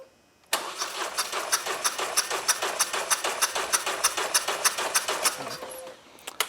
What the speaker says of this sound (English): the process here is to turn it over about 6 or 7 times with the throttle held open